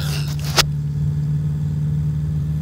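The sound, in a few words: gyroplane engine revving in X-Plane 10 video game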